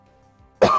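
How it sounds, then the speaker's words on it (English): A single sharp cough bursts out close and loud at the very end, after a near-silent pause. "It was just a regular old cough."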